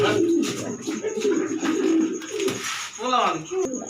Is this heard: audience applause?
no